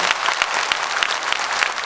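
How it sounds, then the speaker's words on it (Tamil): Loud, dense applause from a large audience at a Tamil youth debate event, continuous clapping with no pauses and no one talking over it. "ஒரு பலத்த கைத்தட்டல் பாராட்டி வழங்குமாறு அன்புடன் கேட்டுக்கொள்கிறேன்"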